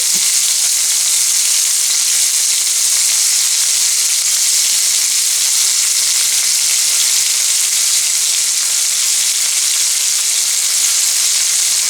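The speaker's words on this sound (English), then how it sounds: "some fresh tomato in it. Saute that down a little bit." Fresh tomato sautés in a hot pan during wild sandhill crane cooking, making a loud, unbroken hissing sizzle that stays even throughout, close up and with no speech.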